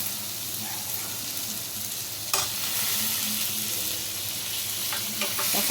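Tomato sizzles and fries in a pan for a pepper mushroom gravy, a soft continuous hiss broken by a few stirring scrapes, quiet and close with no talk.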